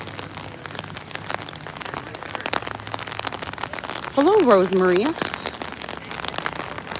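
Steady rain pattering on surfaces during an outdoor charity walk for suicide prevention awareness beside a river, a constant wash of drops under voices talking nearby, with a brief louder voice in the middle.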